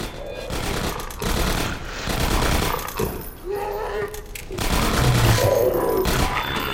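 Rapid bursts of automated ceiling turret fire in Half-Life 2: Episode One rattle through the scene, mixed with thuds and a brief spoken word over the shooting.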